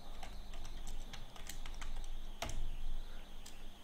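Quiet, rapid clicking of fingers typing on a computer keyboard, the keystrokes coming in irregular bursts with a sharper tap near the middle and no talking.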